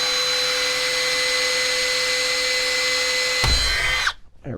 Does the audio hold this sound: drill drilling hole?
yes